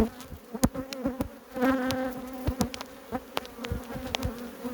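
Honeybees buzz steadily up close at an open hive in spring, a dense droning hum with scattered clicks and knocks of frames being handled.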